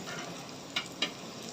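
Garlic fries in oil in a pan as it is cooked for cheesy garlic bread. A steady, soft sizzle runs throughout, and two sharp clicks from stirring are heard close by.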